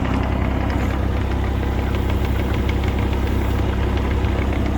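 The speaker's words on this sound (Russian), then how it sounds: "Экскаватор, естественно, отжимается. То есть гидронасос в норме." Mini excavator engine running with its hydraulic pump working, a steady close mid-pitched diesel chugging with a rapid knocking pulse that stays even and loud throughout, no talking.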